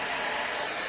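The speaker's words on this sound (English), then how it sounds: "So let's grab my blow dryer here and get to work." A blow dryer set to cool and low runs steadily, a loud, close, continuous airy whoosh with no breaks.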